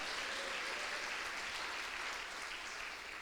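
A church congregation claps hands loudly and steadily, a dense, sustained roar of applause filling the room for several seconds.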